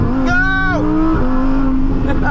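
A Lamborghini Huracan engine revving sharply, climbing in pitch in a brief rising burst, then easing to a steady drone, loud and close.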